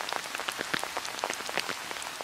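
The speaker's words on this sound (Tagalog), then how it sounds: "Ito ay tunog ng pag-ulan." Rain falling and pattering on a surface, a dense steady spray of small drops with scattered louder taps, soft and fairly distant, with nothing else heard.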